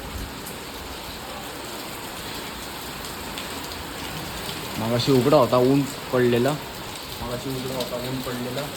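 Steady heavy rain hisses throughout during a thunderstorm with lightning, with someone speaking briefly over it midway.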